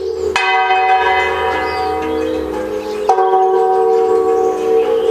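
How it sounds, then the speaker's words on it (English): Two resonant strikes of a church bell, each ringing out with a long, humming tone that lingers and overlaps, loud and close, rung on the day of Queen Elizabeth II's state funeral. "the church bells rang to call their community together"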